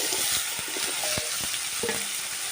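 Chopped potatoes frying in salted mustard oil in a wok give a loud, close, steady sizzle with scattered stirring knocks and scrapes throughout.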